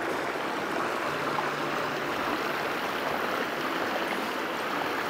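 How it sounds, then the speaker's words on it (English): A small forest creek in Georgia's Chattahoochee-Oconee National Forest flows steadily past a fallen tree, a continuous, close rushing and gurgling of water with no voices. "we will end this video with another view of this awesome little creek"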